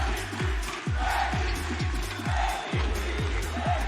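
An esports arena crowd at a VALORANT Masters match cheers and roars, a loud sustained swell under excited commentators talking over it throughout.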